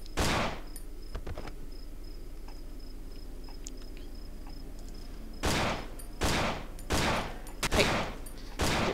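Gunfire from the horror game Cry of Fear: one sharp shot at the start, then a quiet stretch with faint ambient noise, followed by a spaced run of five loud, close shots near the end.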